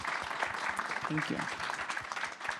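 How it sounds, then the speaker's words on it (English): Audience applauding at the closing panel of MIT's New Space Age Conference 2023 during MIT Space Week, with a broad, steady wash of clapping from a sizable crowd and a voice speaking briefly over it. "Let's have a hand for 3 wonderful days of space gathering and dialogue."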